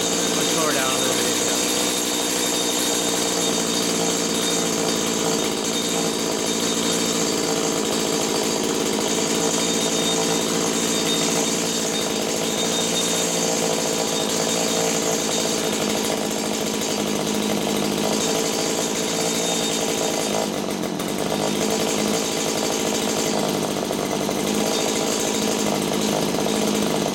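A small engine on a freshly rebuilt carburetor screams steadily at full throttle, loud and close, with a high buzzing drone that holds almost unchanged throughout.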